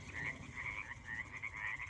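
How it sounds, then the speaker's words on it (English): A chorus of frogs croaks steadily near a garage, with repeated rhythmic calls overlapping into a continuous pulsing drone, fairly loud, and no talking. "Can you guys hear the frogs?"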